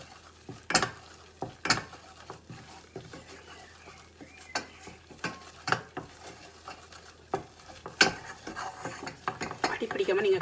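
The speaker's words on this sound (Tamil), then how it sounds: "அடிப்பிடிக்காமல் நீங்கள் கிளற வேணும்." A spoon stirs chicken wrap filling seasoned with pepper and salt in a pan over low heat, sharp repeated scrapes and clinks against the metal in an irregular rhythm, close and moderately loud with a soft sizzle beneath.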